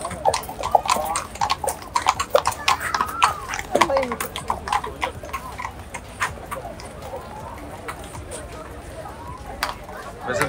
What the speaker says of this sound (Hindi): लीजिए घोड़े पे सवार माउंटेड पुलिस भी आ गई है यहाँ पर, ये लीजिए टबड़क टबड़क